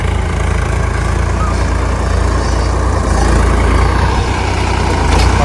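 A tractor engine running continuously at a loud, steady idle-like drone with a heavy low rumble, close by and without talk, at a farm site where land is being filled.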